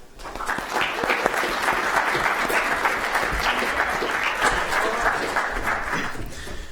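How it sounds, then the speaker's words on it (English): An audience at a university speaker series applauds a guest introduced on stage, with dense, steady clapping that holds loud and even for several seconds before tapering at the end. "please join me with a round of applause for Mark Wilhelm"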